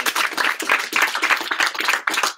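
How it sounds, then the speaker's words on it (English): Hand clapping rings out close and loud at a lively, patriotic-themed group meeting, a brisk, uneven patter of many hands with no voices over it. "let's give a big round of applause"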